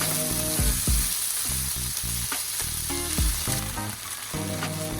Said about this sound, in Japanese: さっと炒めていきます。